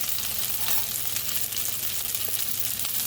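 Noodles for pad thai fry in a hot pan with a steady, dense sizzle that stays loud and continuous throughout, with no voice over it.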